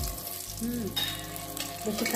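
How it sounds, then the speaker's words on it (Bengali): Hilsa fish roe frying in a pan at home, giving off a steady, close sizzle with faint crackles and a soft tonal hum running beneath it. "মানে ইলিশ মাছের ডিমটা ভাজা হচ্ছে"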